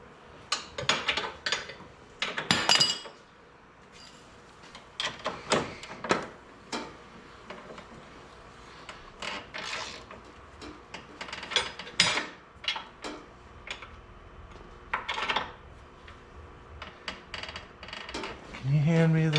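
Metal wrenches, including a 17/18 mm wrench, clink and rattle in sharp irregular bursts while a high-clearance trailing arm is fitted to a side-by-side ATV, close and loud with pauses between clatters.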